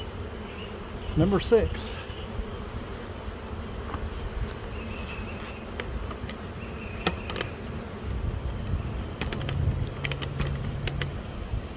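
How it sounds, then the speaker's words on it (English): Bees from a swarm hive that has just been moved hum steadily and softly, with a few sharper buzzes passing close by now and then. "The bees are already settling down."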